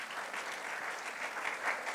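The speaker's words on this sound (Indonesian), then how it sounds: "Yang setuju tepuk tangan panjang bagi Tuhan Yesus" A church congregation at a Sunday worship service gives long, sustained applause, an even, fairly distant wash of many hands clapping with no pause.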